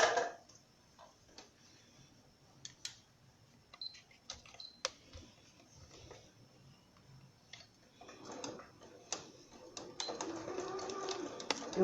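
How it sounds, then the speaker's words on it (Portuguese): A sewing machine stitches the diagonal of a fabric triangle, giving faint irregular clicks and ticks, with a denser, louder run of stitching near the end; someone speaks quietly at times. "Eu vou costurar a diagonal de um triângulo, que aqui está."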